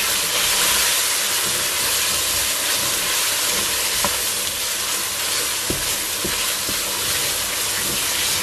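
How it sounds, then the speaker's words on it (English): Seasoned food frying steadily in a pot during Congolese home cooking, a dense continuous sizzle and hiss with a few faint clinks near the end, no talking. "So I'm gonna allow it to fry for 2 minutes"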